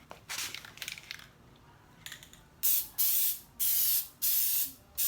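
Four sharp, loud bursts of satin black chip guard sprayed from an aerosol can onto a custom swing-out tire carrier, each hiss lasting about half a second with short gaps between, following quieter rustling handling noises.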